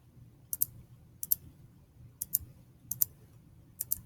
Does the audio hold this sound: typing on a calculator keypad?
yes